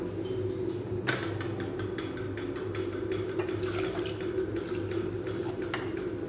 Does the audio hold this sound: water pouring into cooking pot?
yes